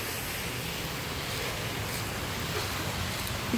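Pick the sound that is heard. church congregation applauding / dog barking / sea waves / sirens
sea waves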